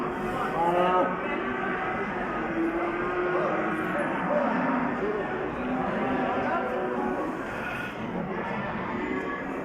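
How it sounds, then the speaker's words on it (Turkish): Several cows low and moo close by at a livestock market, deep drawn-out calls overlapping one another, with people's voices murmuring in the background. "burası da ineklerin olduğu taraf. Şu şekilde bir sürü inek var."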